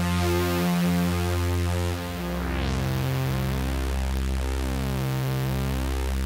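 A sustained, harmonically rich synthesizer patch from a Roland Fantom drones on its own, holding dense layered tones with a brief dip and a slow sweeping change partway through.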